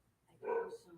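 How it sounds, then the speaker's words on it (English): A single short dog bark or yip sounds at a moderate distance, faint and brief, rising out of a quiet room. "The dogs."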